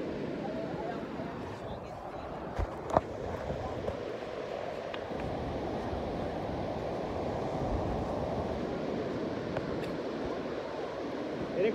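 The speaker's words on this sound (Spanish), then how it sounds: "Mira cómo se está metiendo el mar" Sea waves wash in on the shore with a continuous rushing surf under gusty wind noise across the microphone, moderately loud, while people talk nearby.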